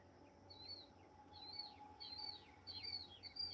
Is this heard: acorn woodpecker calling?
yes